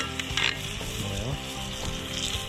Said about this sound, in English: let's see about these steaks here.